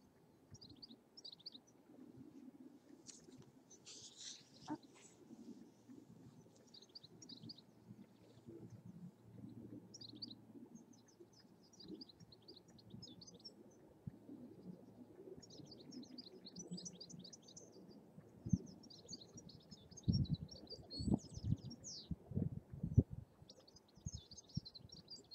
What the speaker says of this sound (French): le calme, le bruit des oiseaux